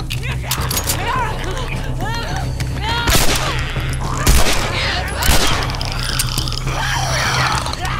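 Rapid bursts of gunfire in The Last of Us Remastered crack over a constant electronic hum, with a few heavier booms and a voice talking throughout.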